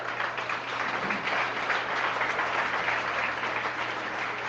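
A church congregation applauds the Lord during a Spanish-language sermon, a dense, loud, continuous roar of clapping that fills the whole stretch without pause, with a faint low hum beneath it.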